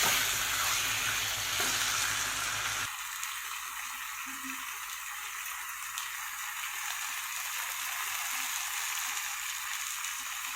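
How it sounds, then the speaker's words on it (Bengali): Potato and pointed gourd curry frying in a pan, a dense hiss of sizzling that drops to a quieter steady crackle after a few seconds, with occasional soft stirring, close and uninterrupted. "তরকারিগুলো আমার ভালোভাবে কষানো হয়ে গেছে"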